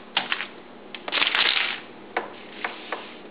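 Scissors snipping contact paper at an angle while covering a workbook, a few short sharp cuts spaced apart with one longer crinkly rustle in the middle, close and fairly loud.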